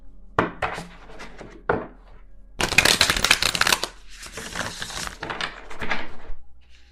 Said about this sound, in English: You're telling me to shuffle, so hang on